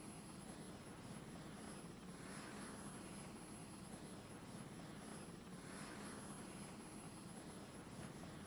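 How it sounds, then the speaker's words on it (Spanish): Helicopters fly in a children's TV show, a steady, faint rotor and engine drone that swells gently in two broad waves, with no talk. "Los helicópteros."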